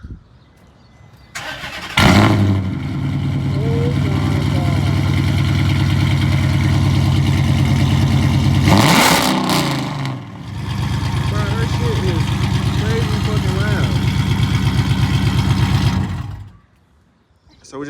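Dodge Charger RT with a full exhaust fires up into a loud, deep rumbling idle, blips sharply in a brief rev around the middle, then settles back to a steady burble before cutting off.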